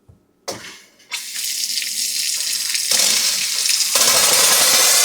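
A newly installed kitchen faucet, drained down with the water shut off, gives a couple of small knocks, then bursts into loud, hissing, sputtering rushes of air and water that grow stronger and continue close up.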